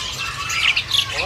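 Hill myna birds squawk at a bird kiosk, harsh bright calls of young birds in stock coming in short bursts over a low hum of background noise.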